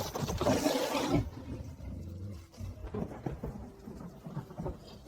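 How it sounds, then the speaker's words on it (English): Heavy rain pours steadily while a loud, close thunderclap crashes and rumbles at the start, then fades into continuous rain noise. "So the rain's not letting up?"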